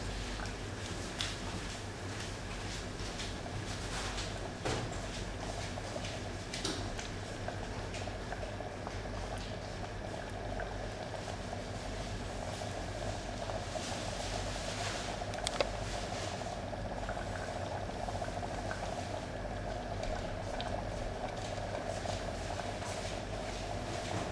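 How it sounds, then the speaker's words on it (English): Dudhi chana shaak, a bottle gourd and chickpea curry, simmers in a pot with a quiet, steady bubbling hiss and scattered soft pops that carry on evenly throughout. "Now I'll just let it simmer for half a minute"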